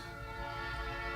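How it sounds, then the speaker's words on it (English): Train passing at a distance, a low steady rumble with a sustained horn-like tone, faint and continuous behind a quiet room. "You guys can hear a train in the background"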